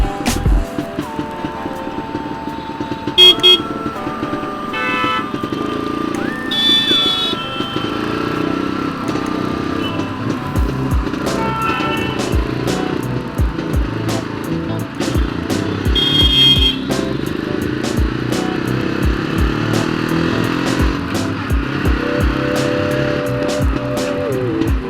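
Exhaust of a restored vintage 1961 Jawa 250 motorcycle, heard close as the two-stroke engine idles and revs repeatedly, pitch rising and falling with throttle blips and sharp popping bursts throughout.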